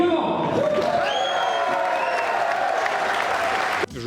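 A large audience applauds after a film screening, a dense, loud wash of clapping with a few whoops that holds steadily before cutting off abruptly near the end.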